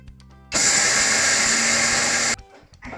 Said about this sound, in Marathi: तर ते आधी आपण मिक्सरमधनं काढून घेऊया.